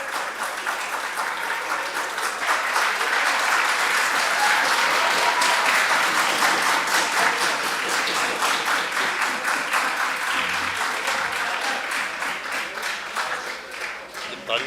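An audience at the India Animal Health Summit & Awards 2022 breaks into sustained applause, dense rapid clapping that swells and then gradually tapers toward the end.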